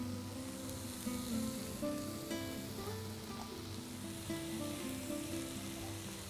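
Rice going into a hot pan of masala sizzles and fries steadily, with a continuous crackling hiss and occasional stirring, close and even in level throughout.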